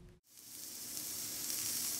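Turkey burgers sizzle loudly on a hot indoor grill after a brief silence, a steady crackling hiss that builds slightly and continues without voices.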